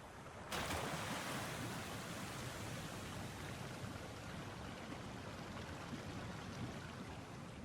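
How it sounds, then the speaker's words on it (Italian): Water rises in a Genshin Impact event: a loud, steady rushing wash of water cuts in suddenly after a moment's quiet and keeps surging evenly to the end, with no talk. "Perché stiamo facendo salire il livello dell'acqua?"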